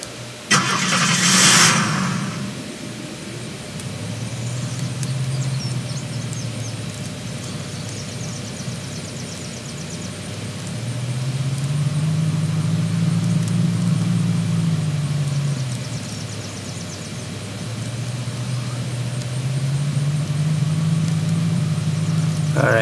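A car engine in the video game Unturned starts with a brief burst, then idles and drives with a steady low hum that swells and falls in long waves as it revs, close and continuous, with no talking.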